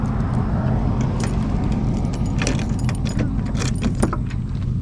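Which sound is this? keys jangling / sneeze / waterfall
keys jangling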